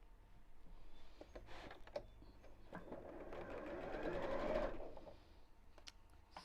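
A sewing machine stitches a cushion cover with a steady mechanical whir that swells and fades, punctuated by small ticks and clicks, heard close in a quiet room.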